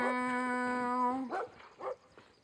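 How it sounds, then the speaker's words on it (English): An angry dog in the video game Brothers: A Tale of Two Sons gives a long, steady whining howl, then two or three short, sharp barks, fairly faint. "Why is this dog so angry?"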